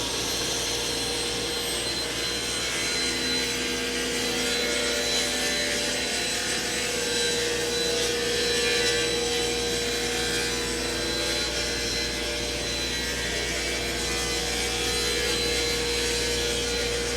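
A saw makes a long continuous cut through a wooden butcher block countertop, a steady loud whine and rasp lasting the whole time with no talk.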